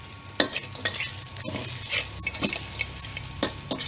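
Crispy pork stir-fried in a pan with light soy sauce and seasoning powder, a steady sizzle broken by repeated sharp scrapes and clacks of a spatula at an irregular rhythm, close and fairly loud, with no talking.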